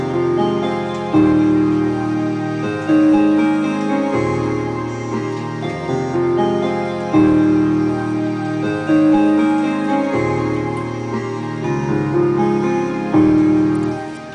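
Chiptune-style game music with retro synthesizers and piano plays on its own, a steady melodic loop with a regular pulsing rhythm.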